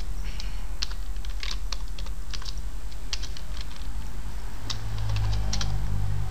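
Someone types on a computer keyboard nearby: irregular bursts of sharp key clicks, some quick runs and some single taps, over a steady low room hum.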